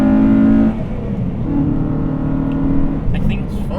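A 2002 Honda Civic Si EP3 hatchback engine revs up near and loud, drops back, then climbs again in a drawn-out rise, with brief speech over the engine toward the end.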